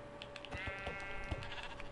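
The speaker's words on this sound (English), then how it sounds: "There's some sheep." Short, wavering sheep bleats in Minecraft repeat over a steady background hum and scattered clicks, sounding close and moderately loud.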